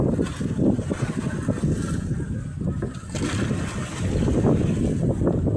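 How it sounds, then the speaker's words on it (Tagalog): Strong wind buffets a small boat on rough, choppy sea in the late afternoon, a loud continuous roar of gusts and splashing waves with no voices. "Medyo malakas yung hangin guys,"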